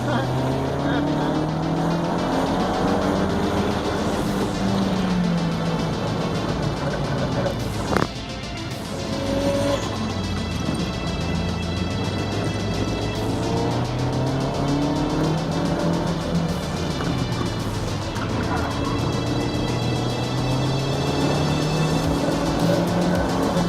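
Car on all-season, 380-treadwear budget tires makes a final autocross run at Evergreen Speedway, its engine revving up and down in repeated surges from close inside, with a driver talking intermittently over it.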